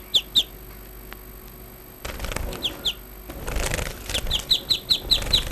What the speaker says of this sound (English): This bird is called finch.